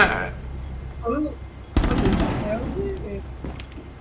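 Enemy gunfire in a video game: a sudden, loud, rapid burst of shots midway, following a quieter stretch of game ambience with a faint brief voice, then trailing off into softer background sounds.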